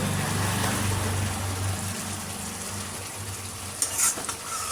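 Chicken pieces sizzle and fry steadily in a pan during a Bengali chicken kasha, with a low hum underneath and a brief louder burst near the end as water goes in.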